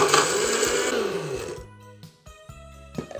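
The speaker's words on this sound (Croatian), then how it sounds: "150 grama čvaraka i stavimo u blender" Blender whirring as it chops pork cracklings (čvarci), loud and steady for about a second and a half, then the motor winds down and stops, leaving quieter clunks and handling sounds.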